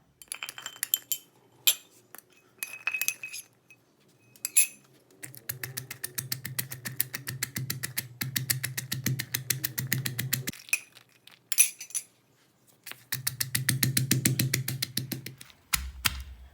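Fresh ingredients for a lemongrass chili paste are pounded with a mortar and pestle in quick, rhythmic bursts of sharp knocks, with short pauses and scattered single taps between the runs.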